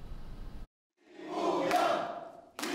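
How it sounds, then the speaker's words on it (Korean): Supporters cheer an election victory in South Korea's 2024 parliamentary election. After a sudden silence, a crowd roar swells, peaks, then fades, as a cheer, with a brief burst of sound before and after it. "당선이 확실시되자 지지자들과 함께 환호하며 승리의 기쁨을 나눴습니다"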